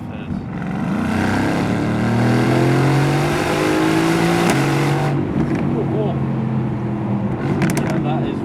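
A Mercedes-AMG GT C Coupé accelerating hard from a rolling start, its engine note climbing in a loud, rising roar through a gear change before settling into a steady high-speed drone.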